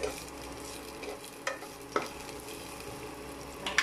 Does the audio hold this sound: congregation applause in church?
no